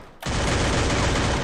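Video game gunfire erupts suddenly after a quiet instant, then a loud, sustained burst of rapid fire or explosion noise holds steady to the end without talk.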